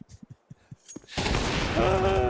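Wall-bang gunfire in a Counter-Strike match: after a few soft clicks and footsteps, a loud sustained burst of rapid shots erupts and keeps going, with a ringing tone underneath.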